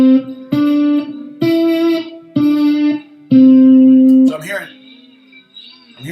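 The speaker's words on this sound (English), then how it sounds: "if I didn't mute with my left hand, it would sound like this" Slide guitar played without left-hand muting, four sustained sliding notes with unmuted strings ringing on, each starting with a clear pluck and holding steady, followed by softer fumbling string noise.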